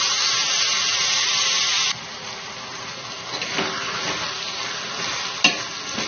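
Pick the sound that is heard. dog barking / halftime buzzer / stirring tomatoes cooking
stirring tomatoes cooking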